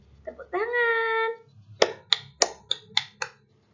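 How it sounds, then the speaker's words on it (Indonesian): Children in a primary school classroom clap in a quick rhythmic series of about six sharp claps, following a brief sung or called-out voice. "Tepuk tangan."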